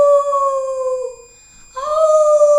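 A voice imitates a wolf, drawing out two long, steady howls with a brief gap between them, close and clear with no other sound.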